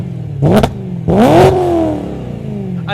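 BMW M3 with a cat delete and Turner downpipes revving hard twice in quick succession, each loud snarling blip climbing and then falling away into a rumbling idle, heard close with no talk.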